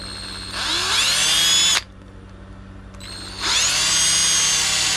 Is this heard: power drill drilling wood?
yes